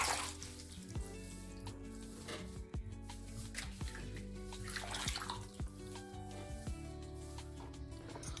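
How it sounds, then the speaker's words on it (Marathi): A bunch of fresh coriander is rinsed in a basin of clean water, giving quiet, continuous splashing and sloshing with scattered drips and sharp little knocks, and no talking. "तर स्वच्छ आपण 2 पाण्याने कोथिंबीर धुवून घेणार आहोत."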